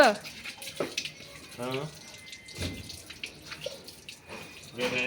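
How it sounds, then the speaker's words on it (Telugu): Water running and splashing while quilts and blankets are washed by hand, a steady gurgling flow with intermittent sloshes, close by, with speech heard over it. "బొంత ఉత్తుకోవడానికి కరెక్ట్ అని చెప్పేసి ఉతికేస్తున్నాం"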